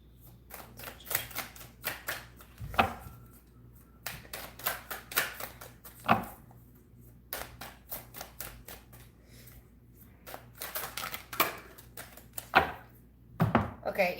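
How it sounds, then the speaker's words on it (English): Tarot cards shuffled by hand during a weekly tarot reading, giving repeated crisp riffling and slapping bursts in uneven clusters over a steady low background hum, close and fairly quiet. "either I'm shuffling sloppy or the cards are sloppy today"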